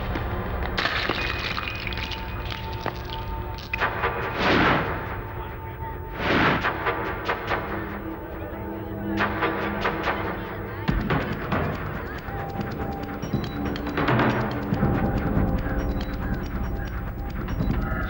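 Rapid gunfire from a police siege in a Tamil action film, with repeated sharp bursts and cracks over a continuous dense soundtrack of noise and music for about eighteen seconds.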